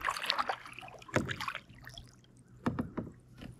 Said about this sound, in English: Going for a morning paddle.